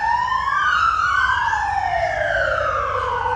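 An ambulance siren wails in sweeping rising and falling tones, loud and steady, with a faint rumble of traffic beneath and no voices.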